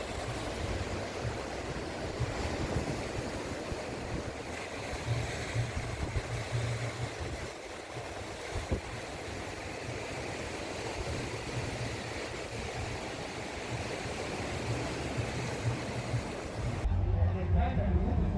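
Sea waves wash onto a beach at night beside a hotel in Arish, North Sinai, a steady rushing surf with some wind rumble against the microphone, and a louder low gust near the very end.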